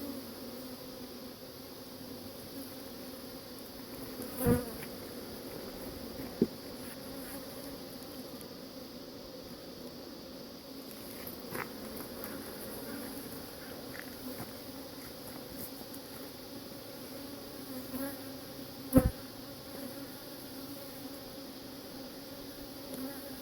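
A low, continuous buzz of many honey bees at an open hive fills the air, with a few faint knocks and taps scattered through.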